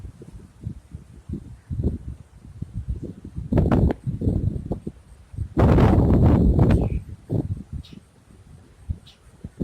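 Gusty wind during Tropical Storm Michael, heard as rough low rumbling buffets that swell into two stronger, louder bursts, with quieter gusting in between.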